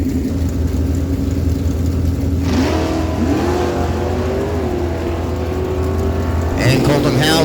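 Drag strip launch pits a 98 Dodge Dakota with a 360 small block Mopar against a 67 Chevy Camaro, engines roaring and climbing in pitch under a loud announcer's voice, with a fresh surge near the end.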